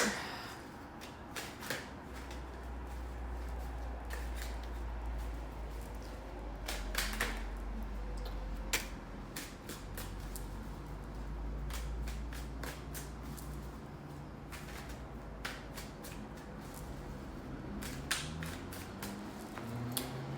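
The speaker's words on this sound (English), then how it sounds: "I'm just gonna shuffle." Tarot cards are shuffled by hand in quick irregular bursts of riffling and tapping, fairly close and quiet, over a low steady hum.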